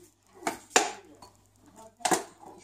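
A spoon clinks and scrapes against a bowl while seasoning and oil are mixed for an oven-roasted leg of lamb, giving a few close, sharp knocks with quiet gaps between.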